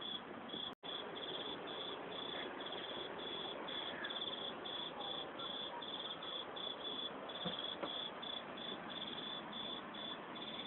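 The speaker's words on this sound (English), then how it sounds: "It's crickets" Crickets chirp steadily in a dense outdoor chorus at an off-grid homestead, a continuous shrill pulsing with a brief dropout near the start and no voices.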